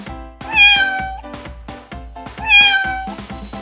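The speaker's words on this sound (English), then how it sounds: "cat," A cat gives two drawn-out, clear meows close by, each rising then falling in pitch, separated by a short pause, with a faint regular ticking pulse beneath.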